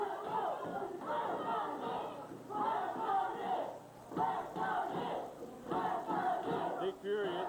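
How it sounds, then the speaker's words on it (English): A wrestling crowd roars in a frenzy at a live 2001 lumberjack championship match, loud sustained cheering and shouting that surges in waves, with excited voices and a few cries rising out of the mass. "what this crowd is in a frenzy"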